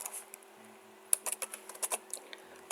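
Typing on a computer keyboard while coding a Discord bot in JavaScript: a quick, uneven run of close, crisp key clicks in short bursts, with no voice over them.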